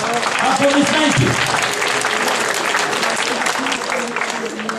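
Crowd applause at a school diploma ceremony for the class of 2017 keeps a continuous clatter of clapping under an announcer's voice and some murmuring, the loudness steady with a slight easing toward the end.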